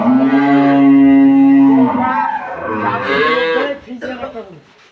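A Jersey-Friesian dairy cow at a cattle market lets out a long, loud moo that bends and fades, followed by softer rumbling calls and nearby market noise.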